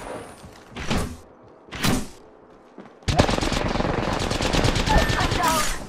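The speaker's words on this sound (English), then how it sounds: "I'm down! I am taking fire." Gunfire in the video game Apex Legends, two whooshing single shots followed by a sustained rapid burst of automatic fire, loud and close.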